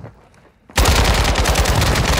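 A burst of rapid automatic gunfire breaks out suddenly after a quiet moment and keeps up loud and close in the Call of Duty DMZ video game, fired from a sniper shotgun build.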